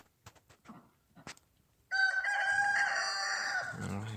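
Rooster crowing loudly and close in an aviary with hens, a long drawn-out crow after a few scattered short clucks and knocks.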